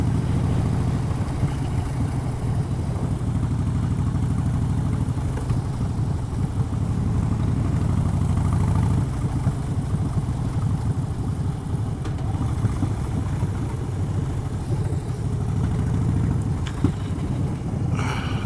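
A Harley-style hog motorcycle cruises slowly at about 30 mph on an Isle of Man road, its steady low engine drone and wind rush running continuously at close range, with no talking.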